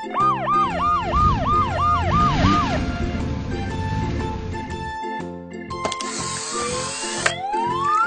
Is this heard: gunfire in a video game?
no